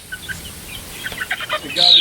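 A loose chicken in a weedy patch near a hoop coop clucks a few times nearby, ending in a short, sharp squawk.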